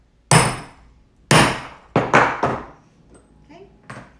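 A metal flaring tool is struck with a hammer to set a grommet in fabric for a kids' hoodie: five loud, ringing blows, first two spaced apart, then three in quicker succession, followed by faint clatter.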